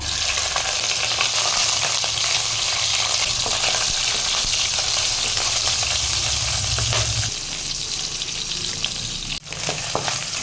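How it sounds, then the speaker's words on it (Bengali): A hilsa fish head fries in mustard oil in a wok, giving a loud, dense, continuous sizzle that eases slightly near the end, with one sharp knock. "এবার আমি এর মধ্যে আগে ভেজে নেব ইলিশ মাছের মাথাটা।"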